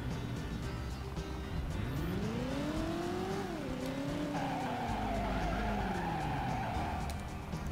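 Tires screech in a sustained skid during a handbrake turn in the PS1 game Driver, the squeal rising and bending in pitch over a steady engine roar, with no talking.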